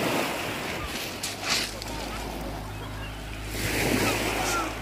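Surf washes onto the beach at Étretat on France's west coast, a continuous rushing roar that swells and recedes, with gusts of wind buffeting the microphone and faint voices in the background.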